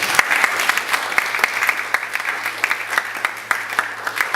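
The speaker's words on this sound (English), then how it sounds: "Give yourself a round of applause." An audience at a Nigerian students' union event in the UK applauds with dense, sustained clapping that stays loud and even for several seconds, with no voices on top.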